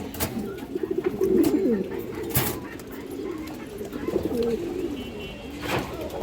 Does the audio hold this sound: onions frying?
no